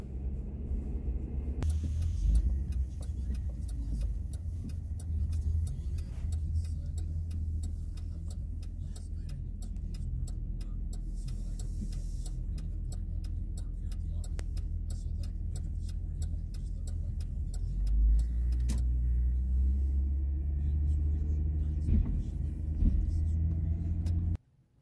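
A car drives steadily with a low engine rumble and road noise, accompanied by a rapid ticking, likely a turn signal, with no talk heard.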